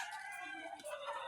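Chickens clucking, faint and brief, a short run of soft clucks and calls at a distance.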